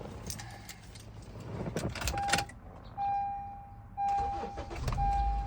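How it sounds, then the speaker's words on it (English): A 2012 Honda CR-V with a newly replaced alternator: keys jangle close by, steady dashboard warning chimes ring out, then the engine cranks and catches near the end. "Turn the car on"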